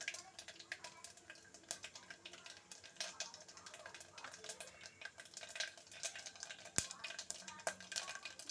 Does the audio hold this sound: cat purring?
no